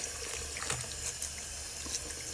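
Hot tap water running steadily while a crocheted hat is rinsed under it, a continuous broadband hiss with slight splashing variations, no voices.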